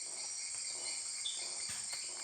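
Insects shrill in the Amazon rainforest at night, forming a dense, continuous high-pitched drone with faint pulsing, steady and unbroken with no voices.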